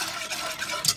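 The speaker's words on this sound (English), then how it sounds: "So now I'm just gonna whisk that sugar in" Sugar is whisked into a milk and cream mixture for a strawberry cassata cake, giving a brief continuous swishing scrape close by, with a slightly louder clink at the end.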